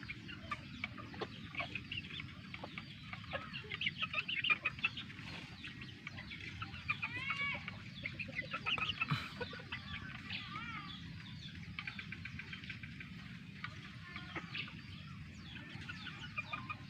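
Chickens on a backyard flock cluck steadily with bright overlapping calls, some rooster-like crowing and occasional wing flaps, moderately close and continuous with no talking.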